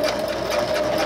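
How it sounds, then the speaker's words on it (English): Sewing machine stitching across elastic, a brief steady mechanical whir with rapid needle pulses, close and continuous. "you're going to stitch across, and then we're going to back stitch about 3 or 4 times to make sure that elastic is nice and secure"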